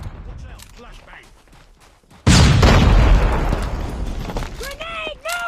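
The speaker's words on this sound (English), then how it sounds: "Watch out, flashbang." A flashbang detonates in Call of Duty Mobile, a sudden loud boom that cuts through earlier quieter gunfire and radio chatter, followed by a sustained ringing roar and chirping electronic tones.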